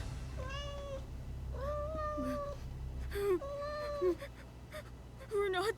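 A cat meows repeatedly in a string of plaintive, rising-and-falling cries, near and fairly clear, over a steady low hum.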